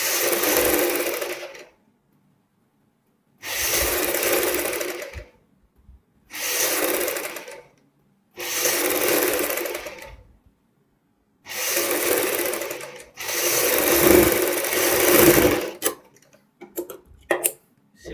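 Sewing machine stitching buckram along a blouse back neck, running in five or six loud bursts of steady whirring separated by short pauses, ending in a few quick ticks.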